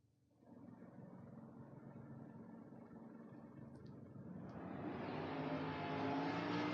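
A drag racing car's engine roars steadily at a drag strip, then surges louder and higher as it accelerates hard, rising to a loud, raw howl.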